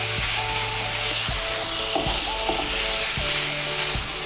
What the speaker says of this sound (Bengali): সয়াবিনগুলোকে মশলার সঙ্গে ভালো করে মিশিয়ে নেব।